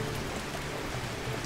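Steady rain falls in the hills of the desert survival game Badiya, a dense, even hiss with no talk over it.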